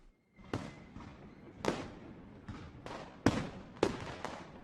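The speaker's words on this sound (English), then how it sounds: "Fireworks crackled and guns banged" Fireworks crackling and guns banging at a palace celebration, heard as a string of sharp, irregular bangs and crackles with brief decays between them.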